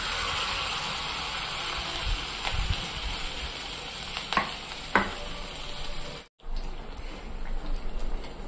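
Evening snacks, Andhra style, frying in hot oil, with a soft steady sizzle, occasional utensil taps and stirring clicks, and a brief silent break near the end before the bubbling resumes.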